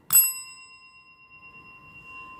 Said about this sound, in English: ring the bell for Sagittarius